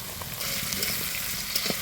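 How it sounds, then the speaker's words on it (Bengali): Chopped tomatoes hit lightly fried onion and green chilli in hot oil, giving a steady broadband sizzle with a few small stirring knocks, close and continuous with no talking. "এবার কেটে রাখা টমেটোটা দিয়ে দিব।"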